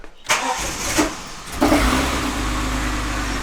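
Ford EF Barra engine cranking and catching roughly: a couple of starter bursts, then the engine fires and settles into a loud, steady idle close by.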